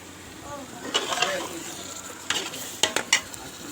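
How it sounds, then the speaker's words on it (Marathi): Yogurt, mint and coriander are stirred together for chicken biryani, with soft scraping strokes and a few sharp utensil clinks against the pot toward the end, faint speech in the background. "दही टाकले की कर थोडं मिक्स करायचं पुदिना आणि धनिया याला थोडं मिक्स करायचं"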